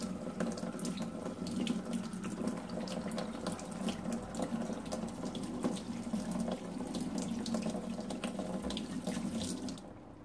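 Tomato seeds are rinsed under a running kitchen tap, a steady close stream of water splashing into a sink for about ten seconds before it tapers off.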